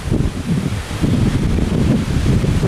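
Strong gusting wind during a thunderstorm, roaring steadily and loud throughout with a broad rushing, buffeting rumble, likely striking the microphone directly, and no voices.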